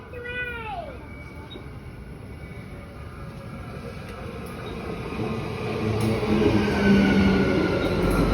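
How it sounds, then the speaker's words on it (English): A train pulls in at Newmarket station platform on the Cleveland Line in Queensland, a low rolling rumble that builds louder toward the end, with a brief rising squeal at the start and no talk. "I can't wait to catch this train."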